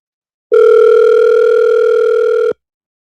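A single steady telephone ring tone from a call that is not getting through, clear and alone, lasting about two seconds before cutting off.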